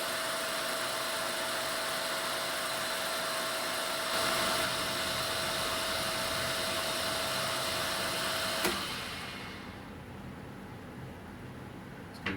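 Boring head turning under power facing feed on a machine, a steady broadband mechanical whir and hum held for about nine seconds before the machine spins down to a quieter drone.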